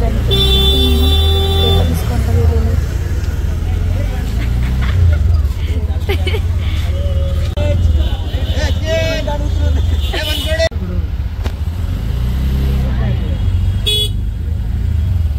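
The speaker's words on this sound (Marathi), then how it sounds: "हे आहे अख्खं लोणावळ्याचं ट्रॅफिक." Lonavala road jammed with traffic: car horns honk in short bursts at the start and again near the end over a constant rumble of idling engines, with people talking close by.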